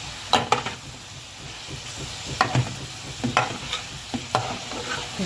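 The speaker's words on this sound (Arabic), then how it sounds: "واقلب توابلي" Spices frying in a hot pan are stirred with a utensil: a constant low sizzle broken by repeated sharp scraping clicks against the pan, close up and without any voices.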